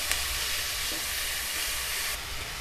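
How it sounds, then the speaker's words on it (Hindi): Finely chopped capsicum sautéing in a pan for pav bhaji, a steady loud broadband sizzle with faint stirring scrapes, continuous throughout with no voices. "बारीक चॉप किया हुआ शिमला मिर्च डालेंगे। 2 मिनट इसको हम भूनेंगे।"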